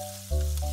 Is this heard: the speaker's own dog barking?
no